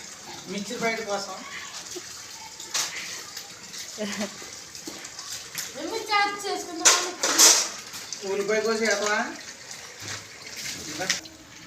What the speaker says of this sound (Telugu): మా పిల్లయితే గిన్నెలు కడిగాను చూడండి